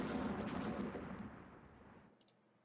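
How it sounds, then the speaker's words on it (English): In the naval strategy game Rule the Waves, a spread of torpedoes fires toward an enemy ship with a loud, rushing, explosive roar that fades over two seconds, followed by a brief sharp click. "Another spread of torpedoes being fired at the Suffren."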